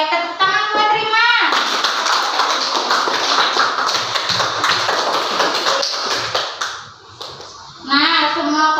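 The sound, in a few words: classroom clapping for Rima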